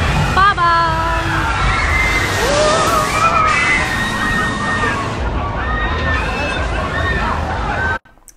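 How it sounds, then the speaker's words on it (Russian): Water sloshes and splashes near people walking beside it, a loud continuous rush mixed with crowd babble and excited voices, cutting off abruptly at the end. "Предлагаю пройтись около воды, чтобы нас обрызгало"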